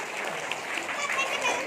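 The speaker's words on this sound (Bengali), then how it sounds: "একটা হাততালি" Students and teachers clap together at a school Teachers' Day celebration, a brief burst of applause while a voice speaks over the clapping.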